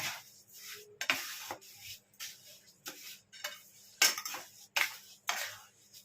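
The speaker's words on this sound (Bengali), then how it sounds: "দিয়ে আমি আস্তে আস্তে ভালো করে একটু নাড়াচাড়া করে দিচ্ছি" Grated raw mango and sugar being stirred in a pot for a jelly, with repeated close scraping and rubbing strokes of a spoon against the metal in an uneven rhythm, about a dozen strokes alone with no talk.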